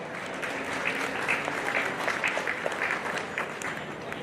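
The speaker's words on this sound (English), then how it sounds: "Let's give him a big round of applause." A crowd at a livestock hog show gives a big round of applause, dense sustained clapping filling the space at a steady level with a few louder claps poking through.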